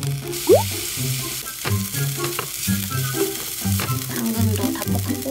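Vegetables, including carrots, are stir-fried in a single frying pan with a close, lively sizzle and intermittent scraping, alongside a recurring low tonal pattern in the background.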